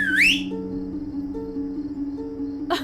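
A short rising whistle from a person, bright and close, lasting under half a second at the start over a steady hum of background music and faint sustained tones.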